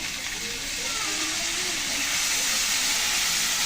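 Water poured onto ginger and mustard spice paste frying in hot oil for a hilsa curry sends up a loud, rising steamy hiss that holds steady and grows slightly stronger.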